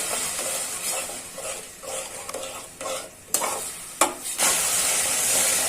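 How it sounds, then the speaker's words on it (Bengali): Masoor dal lentils being sautéed and stirred in a hot pan, giving a steady sizzle and fry with scraping stirs and a few sharper clinks of utensil against the pan, close and fairly loud, no voices. "এখন ডালটা কষানো হয়ে যাক"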